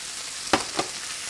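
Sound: frozen stir-fry vegetables sizzling in a hot pan

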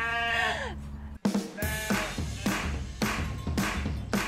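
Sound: sheep bleating

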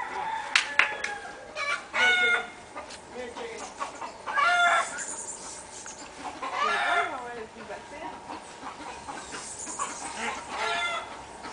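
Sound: chicken clucking in a yard

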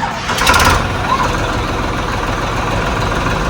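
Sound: Farmtrac 60 tractor engine

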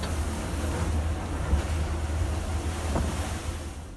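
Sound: fishing boats in stormy ocean waves

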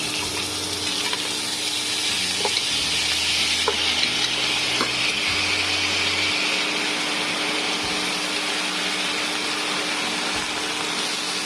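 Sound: washed rice being sautéed in hot ghee

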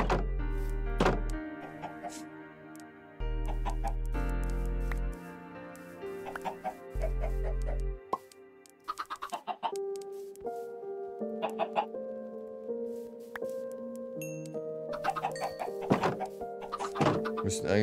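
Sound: Minecraft chickens clucking, from a video game

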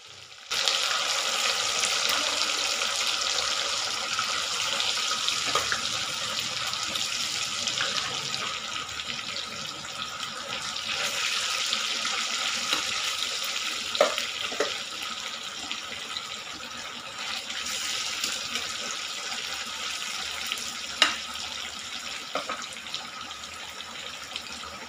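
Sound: chicken frying in hot oil with curry leaves

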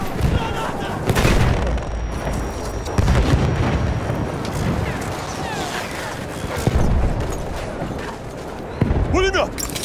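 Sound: machine gun fire and explosions in the video game Battlefield 1

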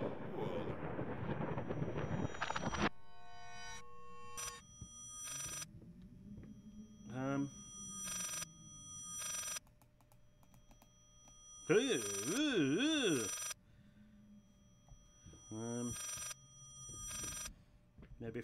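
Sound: telephone ringing in the video game Layers of Fear

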